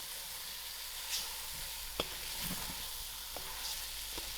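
Rinsed lauki (bottle gourd) stirred into a pot of dhal base, a quiet steady sizzle with a few soft scraping knocks from the spoon.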